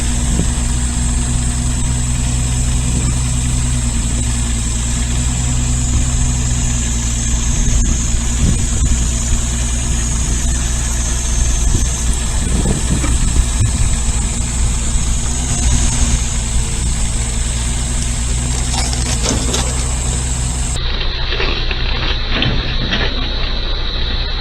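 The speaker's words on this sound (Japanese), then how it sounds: "ユンボはもともと遅いですが、今は特にゆっくり動かしています。" A mini excavator engine runs loud and steady, droning and vibrating as the machine moves slowly while carrying a heavy load of sacks of wood chips, with no talk over it.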